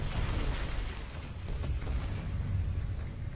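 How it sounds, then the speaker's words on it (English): A bomb explosion in Call of Duty Modern Warfare 3 rumbles as a heavy, sustained low boom with crackling debris, loud throughout and with no voices. "Another one of those conveniently placed Makarov bombs."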